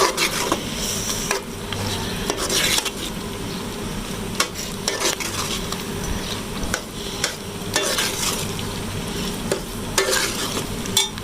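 Chana dal gosht with chicken being stirred in a cooking pot, a steady scraping and sloshing with sharp utensil knocks against the metal over a constant low sizzle, close and fairly loud, no voices.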